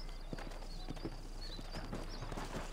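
Horse hooves clip-clop steadily in the Western video game Red Dead Redemption, an even rhythmic trot over a constant low ambient bed, with no talk.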